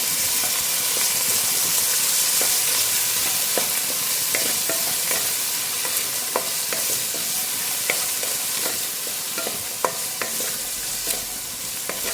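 Cooked green peas stirred into a frying pulao mixture in a pan, a loud steady sizzle and hiss with light scraping and occasional taps of a spoon, close up and without talk.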